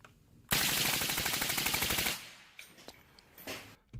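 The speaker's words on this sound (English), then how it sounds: "20 rounds with the suppressor" A suppressed firearm fires a rapid burst of about twenty rounds as a dense, loud string of muffled pops lasting roughly a second and a half, followed by faint scattered noises.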